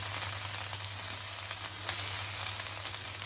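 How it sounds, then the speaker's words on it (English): Prawns sizzle in oil in a pan for prawns sukka, fried until light golden brown, a steady soft crackling hiss with no talking. "So let's fry this till light golden brown."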